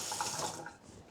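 Water draining off grated cassava prepared for suman, a short trickling splash close by that fades after a moment.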